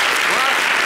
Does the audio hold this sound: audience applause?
yes